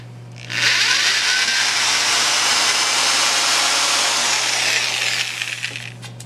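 A power drill runs steadily for about five seconds while pressing a 7/16 T-nut into a DIY tripod extension arm. It spins up quickly, holds a loud, even whine and then winds down, with no one talking.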